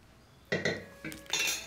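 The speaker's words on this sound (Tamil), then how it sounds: "இப்போது நான் வேறு பாத்திரத்துக்கு மாற்றிக்கிறேன்" Steel utensils clink against a pot as paruppu kadaiyal (mashed dal) is moved into another vessel: four or five quick, bright metallic knocks and scrapes, fairly close and quiet, with no voices.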